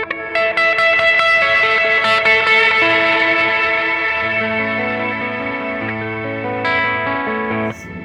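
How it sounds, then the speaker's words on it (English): Guitar through an EarthQuaker Devices Afterneath V3 reverb pushed into self-oscillation, dense sustained tones swelling and rising in pitch into a loud, continuous shimmering wash that holds for several seconds before cutting off abruptly. "Let's get a self-oscillation going here where it just kind of starts going up."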